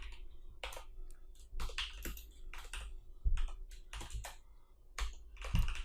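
Someone types PHP code on a computer keyboard, with quiet, irregular clusters of crisp key clicks and short pauses between bursts.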